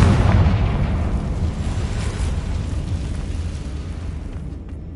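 A Confringo blasting spell explodes in a Harry Potter magic-school video game: a loud, booming burst followed by a sustained roaring rumble that slowly fades over several seconds, with no talking.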